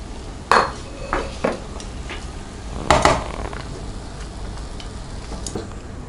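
Cooked tamarind rice being mixed inside a pressure cooker, a spoon knocking and scraping against the metal pot in several irregular clinks over a faint background hiss, with no talking.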